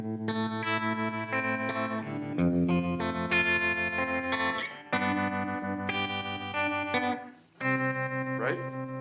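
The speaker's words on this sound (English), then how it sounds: "That's pretty sweet reverb." A guitar played through a vintage amplifier with built-in vibrato and spring reverb rings out in sustained, wavering chords and notes with a lingering wash of reverb, loud and close, with no talk over it.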